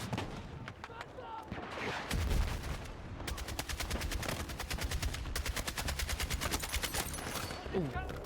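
Rapid automatic gunfire in the video game Battlefield 6, dense bursts of shots rattling on and off across the clip, fairly loud and continuous in the middle stretch.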